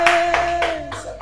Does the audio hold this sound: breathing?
no